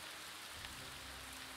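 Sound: rain in Battle for Middle-earth II video game

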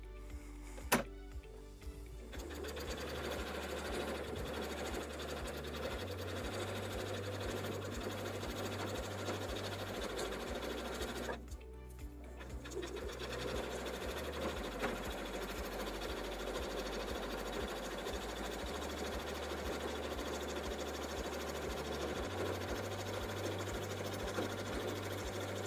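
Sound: sewing machine stitching oven mitt lining

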